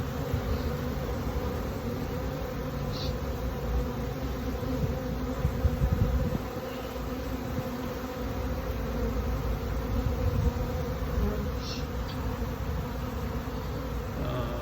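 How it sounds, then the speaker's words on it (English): A dense, continuous hum of many honey bees buzzing up close at a hive in California, steady and loud, with occasional individual bees droning past. "how much pollen these bees are actually truly bringing in right now."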